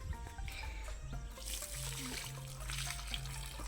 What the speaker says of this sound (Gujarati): હવે રેડવાનું છે